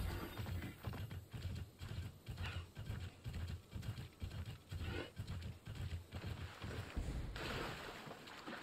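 Steady, rhythmic hoofbeats of a galloping horse in the video game Immortals Fenyx Rising, clip-clopping continuously at a brisk pace, fairly close, with faint game-like background noise and no talking.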